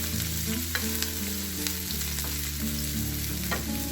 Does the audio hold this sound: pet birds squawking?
no